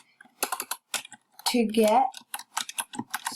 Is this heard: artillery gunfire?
no